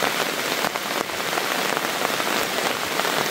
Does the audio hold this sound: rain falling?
yes